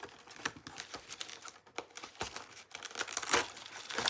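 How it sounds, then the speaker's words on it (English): A Velcro fastener is pulled open on the case of PSB M4U 8 mk2 headphones, giving a series of close, crackly ripping bursts and crinkles in uneven spurts, with no talk. "Oh no, it's a Velcro."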